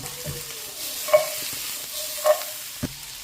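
Mixed vegetables, pechay among them, are stir-fried in a pan. A soft, steady sizzle runs under a few distinct scrapes and clacks of a utensil against the pan, with no talking.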